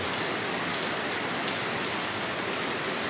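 Steady rain falls at Sarae Land Palutungan in Kuningan, a dense, even hiss of drops hitting surfaces that stays constant throughout with no voices.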